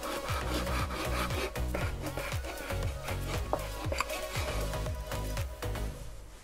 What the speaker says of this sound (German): Hier schneiden wir jetzt nochmal durch und schneiden uns dann noch die Backhaut ab.